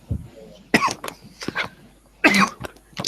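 A person coughs in a few harsh bursts, close to the listener, with brief pauses between them.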